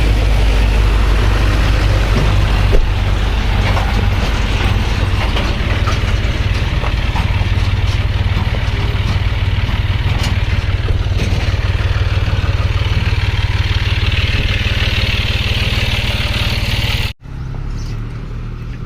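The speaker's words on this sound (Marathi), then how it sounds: "इथं हे आमच्या गावच्या रोडचं काम चालू आहे" Heavy road construction machinery works on a village road, a loud, continuous engine drone with clattering that runs nearly the whole time, close by, cutting off abruptly near the end.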